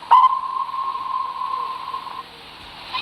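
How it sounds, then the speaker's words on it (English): A ship horn in a video game gives one steady, sustained blast that holds for about two seconds before cutting off, sounding alone with faint background hiss. "Now let's hear what that horn sounds like."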